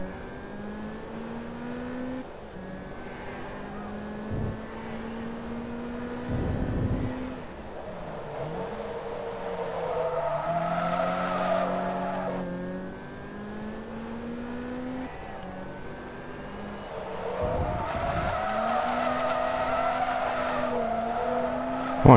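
A Lotus Exige race car in Forza Motorsport 2 drones along with a rising and falling engine note, its tires squealing through several long skids mid-race.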